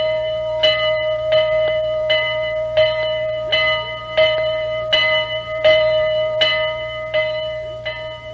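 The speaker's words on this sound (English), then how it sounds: "That's the sound of the bell." The bell of the General steam locomotive rings steadily about ten times at an even pace, each strike clear and loud with a long ringing tone, heard alone without talk.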